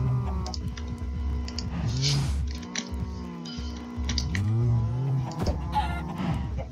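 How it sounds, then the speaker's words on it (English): Chickens clucking on a farm in the video game Minecraft, repeated close clucks and squawks layered over steady background game sound, with no talking. "Stupid chickens."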